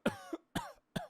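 A voice imitates a child's cough: three short, throaty coughs in quick succession, close and fairly quiet, with no other talk.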